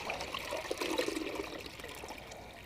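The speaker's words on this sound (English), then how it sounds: "I'm just going to dip, hold it up level. It will pour out when it gets to the bottom there." Water poured from a dipped container into a bucket for mixing floor leveling compound, a steady, fairly faint splashing trickle with no voices.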